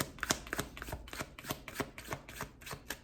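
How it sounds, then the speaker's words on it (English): Tarot cards being shuffled by hand, a quick, regular run of crisp riffling slaps repeating about every quarter second, close and soft, with no talking. "I just want to shuffle."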